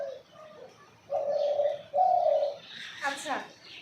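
A dove coos on a quiet morning, a few soft, low, drawn-out calls close by, with a brief chirp and a voice speaking toward the end.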